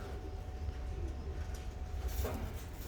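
A 2014 blue bar tippler pigeon cock coos softly from close by, with a few low murmuring calls over steady faint background hum.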